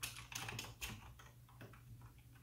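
Close computer keyboard typing while writing Discord.js bot code, a short quiet burst of rapid key clicks with no voices over a steady low hum.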